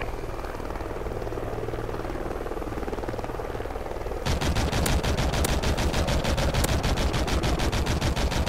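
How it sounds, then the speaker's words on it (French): In the Call of Duty Ghosts video game, an allied helicopter's rotor thrums steadily while rapid bursts of automatic gunfire erupt halfway through and keep rattling under the chopping beat. "pilote hélico allié actif."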